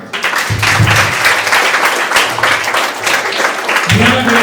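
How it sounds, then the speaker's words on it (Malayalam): An audience at a Kerala community felicitation and school-supply distribution event claps together, sustained loud applause with some voices and crowd murmur mixed in. "എല്ലാവരും ഒന്ന് കൈയടിച്ചേ."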